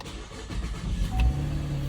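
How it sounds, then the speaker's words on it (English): A 2010–2019 Chevrolet Camaro engine starts with a newly programmed spare key, a brief starter crank followed by a low, steady idle settling in, close by with no talking. "You can try to start the car"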